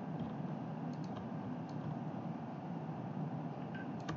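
Computer keyboard keys are pressed in a few soft, sparse clicks over a steady low background hum, faint and close, with no talking.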